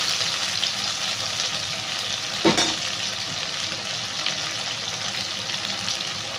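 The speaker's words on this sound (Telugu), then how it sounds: "మసాలా అనేది మనకు మంచిగా ఫ్రై అవ్వాలండి పచ్చి పొడి ఆయిల్ అంతా పైకి వచ్చేయాలి అంతవరకు ఫ్రై చేసుకోవాలి" Spiced masala paste frying in oil for egg Mughlai curry, a steady close-up sizzle and crackle with a single brief stir or scrape in the middle, no talking.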